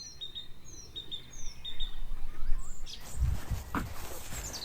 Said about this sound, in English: our gardens are amazing places for birds